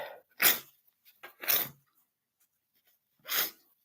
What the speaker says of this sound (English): I always sneeze here for some reason.